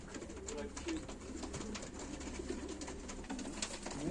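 Pigeons cooing during a live pigeon auction, soft low coos repeating faintly over a steady background hum and rustle.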